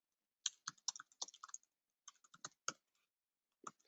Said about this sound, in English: Type in some text.